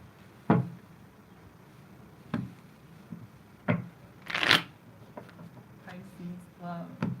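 Tarot cards get shuffled in a few separate bursts, each a quick papery riffle or slap, close by, with quieter pauses between.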